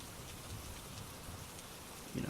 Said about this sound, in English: Maybe the sound of rain it comforts you as well.